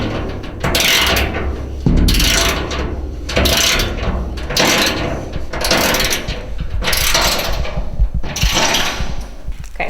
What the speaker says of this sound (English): now we're gonna tighten everything down